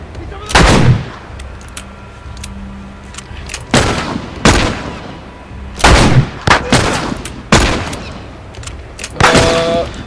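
Gunfire from The Last of Us rings out as a series of loud, sharp shots in irregular bursts, some in quick doublets, with faint background ambience between them.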